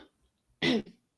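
A single short throat-clearing cough, close and fairly loud, bursting out after near silence and trailing off with a softer second breath.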